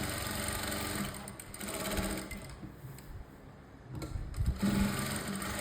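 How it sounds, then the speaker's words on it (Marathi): A sewing machine stitches a folded blouse fabric edge, running steadily and close with a fast mechanical whir that dips briefly and picks up again, with no talking. "आता इथे टीप मारायची म्हणजे ते कापड जे आहे ते आपलं बाहेर येणार नाही"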